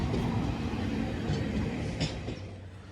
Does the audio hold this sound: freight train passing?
yes